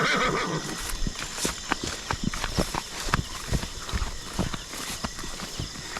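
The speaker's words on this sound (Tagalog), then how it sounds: "Uy, kabayo yun, di ba?" Horse in a forest, a loud whinny at the start followed by repeated hoof clip-clops on the ground, fairly close, with faint voices and movement in the background.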